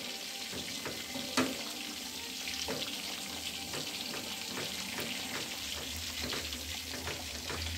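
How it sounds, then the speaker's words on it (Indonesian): Cornstarch-thickened white cheddar sauce cooking in a pan, with a constant soft sizzle and bubbling plus occasional light scrapes and taps of a utensil being stirred slowly. "Kita aduk perlahan sampai mengental."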